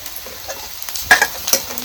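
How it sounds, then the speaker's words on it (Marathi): Onion dry-roasting in a pan with crushed garlic and coconut just added, heard as a low sizzle broken by a few sharp spatula scrapes and stirs over a short span. "आता ह्याच्यात आपण टाकायचंय टिचून घेतलेलं लसूण खोबर"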